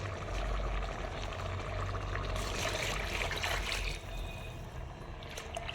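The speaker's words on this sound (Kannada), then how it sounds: "ಬರೀ ನೀರು ಹಾಕ್ತೀನಿ" Plain water pours steadily into a pot for village-style chicken biryani, a continuous close trickling splash that shifts in tone partway through, with no talking.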